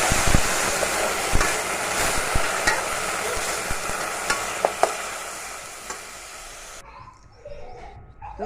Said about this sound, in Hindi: फ्रीद की ना सवैयाँ जो है वो तैयार हो रही हैं। देसी घी में मैं बना के दे रही हूँ।